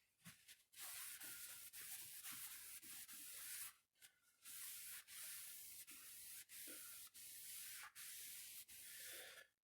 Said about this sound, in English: Now, usually with scuff sanding, I like to do it with 600 grit